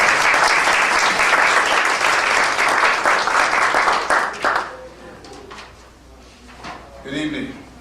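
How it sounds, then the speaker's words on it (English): A graduation-ceremony audience delivers a hearty round of applause welcoming a speaker, loud and dense for about four seconds before dying away into quieter room noise and a voice. "Please receive him with a hearty round of applause."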